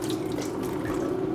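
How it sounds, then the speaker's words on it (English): Boiling water poured from a jug into a Thermoserver, a steady, close splashing gush with a resonant tone as the vessel fills, with no talking. "tip the boiling water in the thermoserver."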